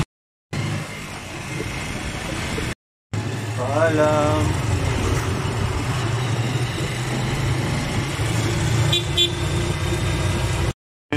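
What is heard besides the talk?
tricycle engine and horn honking in traffic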